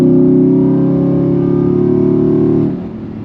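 A Nissan Titan XD pickup's dual overhead cam aluminum-block engine roars loudly at high revs, holding steady close by before dropping back toward idle near the end.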